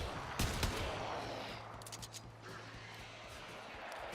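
Tiburon rifle in the Warframe video game firing in semi-auto, a few sharp shots up front and then lighter scattered reports over a steady low hum of game ambience.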